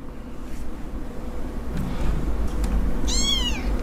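A cat meows once near the end, a clear rising and falling cry over a steady low background hum.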